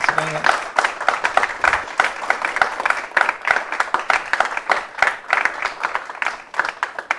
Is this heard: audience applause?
yes